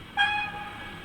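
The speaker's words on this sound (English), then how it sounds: "What about short whistle?" A short, bright whistle toot from a Rapido 15xx pannier OO gauge model locomotive with DCC sound, sounding clearly once and then trailing off into a faint fading tail.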